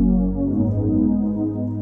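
Analog pad patch on a Yamaha YC keyboard, a sustained warm low-pitched tone held steadily at moderate loudness with no voice.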